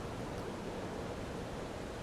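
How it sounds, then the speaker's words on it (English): A waterfall in the video game Starfield, heard as a faint, steady broadband rush of falling water that continues evenly throughout with no other sounds. "stand by the dirty-ass waterfall that she liked so much"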